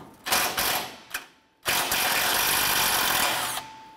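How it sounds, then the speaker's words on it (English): A ratchet with a 10 millimeter socket removes a bolt on a 2008-2012 Honda Accord bumper, giving loud close ratcheting bursts with a short pause, then a longer run of clicking. "Using a 10 millimeter socket, we want to go ahead and remove this bolt right here."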